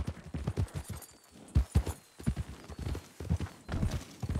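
Horse hooves clip-clopping on a hunting ride, a steady uneven rhythm of close, fairly soft hoof strikes with brief pauses, heard with no talk.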